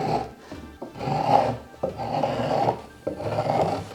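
A marking gauge scribes a line along a wooden board in four repeated rasping strokes, each a scratchy drag with short pauses between, close and clear with no talk.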